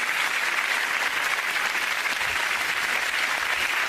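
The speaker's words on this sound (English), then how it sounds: "Give them all a round of applause, ladies and gentlemen." A studio audience at a British comedy panel show claps loudly and steadily, a dense, even roar of applause with no talk over it.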